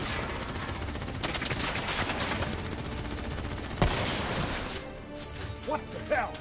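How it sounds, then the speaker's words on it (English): Sustained gunfire in Black Ops 3 rattles continuously as a dense, loud barrage with a sharp crack midway, tapering off near the end while voices shout over the shooting. "Who's shooting?"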